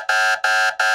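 A timer app's alarm going off after a countdown, sounding three loud, evenly spaced electronic buzzing beeps in quick succession with short gaps between, alone and close.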